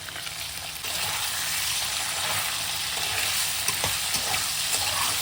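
Sweet potato slices are stirred and steamed in a pan with a soft continuous sizzle, and a few light scrapes and taps from the spoon sound close by, with no talking.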